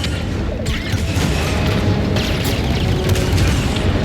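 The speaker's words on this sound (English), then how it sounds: "So that fires the cannons." Walker cannons firing in Star Wars Jedi: Fallen Order, heavy booming blasts with mechanical crashes, a couple of sharp shots layered over continuous loud game rumble.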